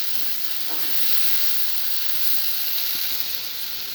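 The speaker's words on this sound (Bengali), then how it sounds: "পেঁয়াজ রসুন লঙ্কা দিয়ে পেস্ট করে রেখেছি ভালো করে কষিয়ে নেবো" Onion, garlic and chili paste sautéing in hot oil gives a loud, continuous bright hiss with faint stirring scrapes underneath, steady throughout with no talking.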